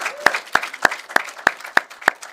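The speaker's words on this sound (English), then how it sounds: "Let's give them one massive round of applause." Sparse, evenly spaced handclaps, about seven crisp claps in a slow steady rhythm, from a small audience at the close of a panel at a distinguished address event in Bristol.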